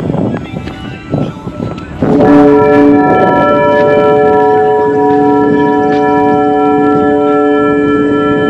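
A set of church-style bells mounted on a 3.7 m full-carbon flute kite rings out in loud, sustained overlapping tones after a couple of seconds of wind and rustling, the chime holding steady to the end.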